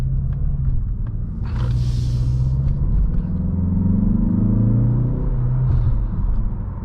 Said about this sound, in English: Now, that's real engine noise you're hearing right now.